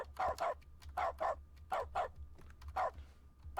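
Dog barking in the Stanley Parable video game's dog mode: a series of about seven short, sharp barks in an uneven rhythm, close and clear over a low steady hum.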